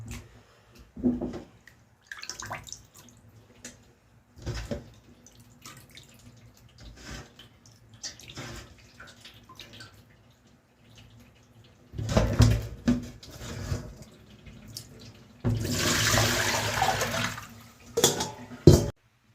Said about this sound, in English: Starting by washing the fish, right? Like this. You can see, wash them like this.